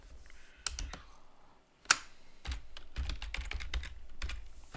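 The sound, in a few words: typing on a computer keyboard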